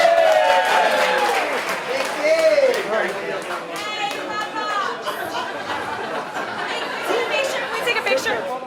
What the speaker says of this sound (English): Give these two a big round of applause, everybody.